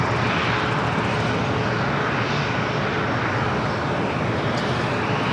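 An American Airlines A321neo on arrival at LAX produces a broad, steady jet roar, loud and continuous across the whole stretch with no voices.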